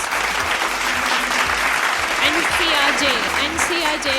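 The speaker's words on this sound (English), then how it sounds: "Come on, loud round of applause." An award ceremony audience gives a loud, continuous round of applause, dense clapping under a voice talking over it.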